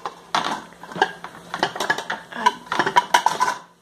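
Metal pots, pans and utensils clatter and clink at home while a meal is cooked, in irregular close knocks and scrapes, with a lid being handled.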